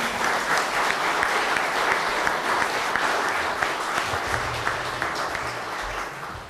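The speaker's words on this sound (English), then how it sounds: "So I'm going to give you a round of applause." An audience at a community business class claps for a panel, a steady, dense round of applause heard alone at full strength and easing slightly toward the end.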